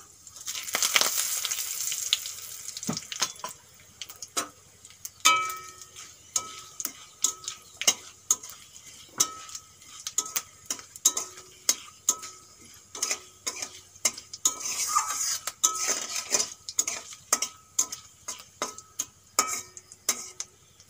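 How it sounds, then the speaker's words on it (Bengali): Bay leaves and dried red chillies fry in hot oil while a spoon stirs, giving soft sizzling bursts and repeated sharp clicks and taps of metal against the pan in an irregular rhythm. "আর দিয়ে দেবো তেজপাতা আর শুকনো লঙ্কা"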